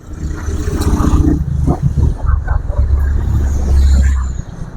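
Many vehicles in street traffic roll and rumble past, engines droning steadily with some revving, loud and close throughout, with wind noise and no clear talk.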